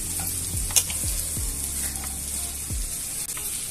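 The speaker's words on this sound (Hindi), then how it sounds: "इसमें भिंडी भी डालेंगे। डालकर मिक्स कर लेना भिंडी को।" Okra tossed with roasted coconut in an oiled pan, a steady close sizzle with several scraping stirs of a spoon spaced through it.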